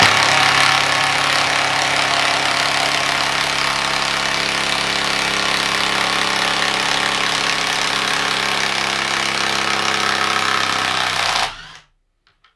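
A Milwaukee M18 Fuel 1/2 inch mid-torque impact wrench with friction ring hammers steadily on speed 2, a loud, close, continuous rattling drone for about eleven seconds that cuts off abruptly at the end.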